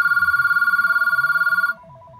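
A landline phone in a basement, wired beside a DSL modem, rings with a loud, rapid electronic warble for under two seconds before cutting to a softer tone.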